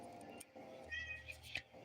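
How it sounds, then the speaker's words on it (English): A pet cat gives a short, thin meow at close range, quiet against a faint background murmur. "That's what my cat says"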